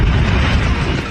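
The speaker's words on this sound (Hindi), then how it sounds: "अचानक एक धमाका होता है" A loud, sustained explosion as a plane crashes near a house in Philadelphia, captured on a home camera, a dense roaring blast filling the whole moment with no voices.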